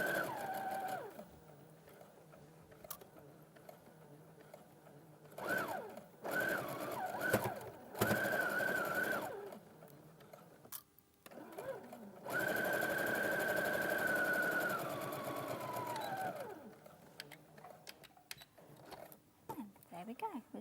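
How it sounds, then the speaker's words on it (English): A sewing machine runs short bursts of quick stitching along a rolled hem, the motor whirring steadily in several runs of a few seconds each, with a presenter talking in between during a live sewing demonstration. "It's a quick line of stitching, locks it in."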